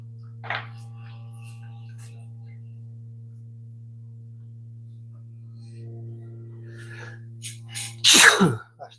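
A single loud sneeze bursts out near the end during a live pottery session, preceded by a faint earlier sneeze-like breath over a steady low electrical hum.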